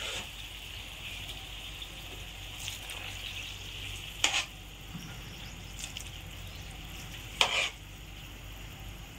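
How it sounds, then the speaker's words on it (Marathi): Soaked sabudana (tapioca pearls) being sautéed in a pan, with a steady low frying hiss and a few sharp scrapes of a spoon against the pan at irregular moments, close and moderately loud, no talking. "थोडा थोडा करून आपण सर्व साबुदाणा परतून घेऊ"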